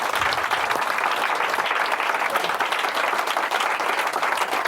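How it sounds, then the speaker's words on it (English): Theatre audience at a magic performance breaking into a round of applause, sustained dense clapping from many hands, steady and fairly close throughout. "give them all a round of applause"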